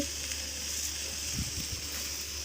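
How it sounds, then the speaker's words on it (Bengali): Kumri frying in a pan gives a steady, soft sizzle throughout, with a few faint low bumps of stirring or handling near the middle and no talk. "এখানে কুমড়ি ভাজছি"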